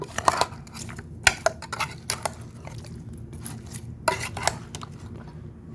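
Camel meat curry stirred and mixed in a metal pot, with irregular spoon clanks against the pot between soft wet squelching movements, close and fairly loud.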